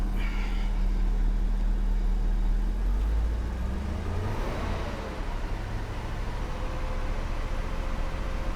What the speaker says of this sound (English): She was idling at 600, now she's like at 450-ish.